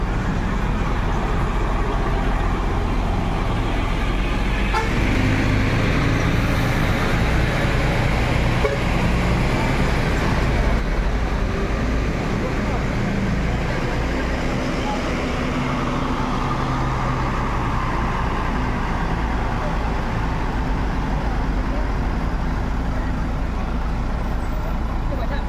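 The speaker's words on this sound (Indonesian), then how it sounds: "Masuk lagi bus MPM dengan nickname Sinetron." An MPM bus pulls into Terminal Poris amid a loud, continuous rumble of engines and roadway traffic, with brief air-brake hisses and voices in the busy station.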